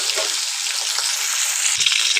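Bele fish frying in oil in a pan, a steady loud hiss of sizzling that holds throughout, with a brief low knock near the end as the fish is turned.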